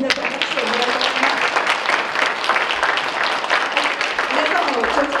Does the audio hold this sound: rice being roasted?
no